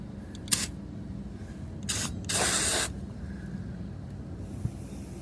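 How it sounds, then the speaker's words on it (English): Wasp and hornet aerosol spray fires in short hissing bursts: one brief spurt, then a pair of longer blasts close to the microphone, over a steady low hum in a quiet room. "Okay, we get our spray, wasp and hornet. Let's give it a quick little"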